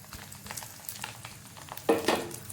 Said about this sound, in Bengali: এবার আমি কাজু আর কিশমিশগুলো ভালোভাবে ভেজে নেব।